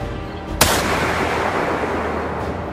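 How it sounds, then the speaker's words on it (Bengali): A single sharp gunshot cracks out in a horror audio drama, followed by a long, dense, roaring reverberant wash that fills the rest of the clip, loud and without any talking. "হঠাৎ একটা গুলির শব্দ রাতের অন্তহীন নৈঃশব্দকে খান খান করে দিল মুহূর্তে।"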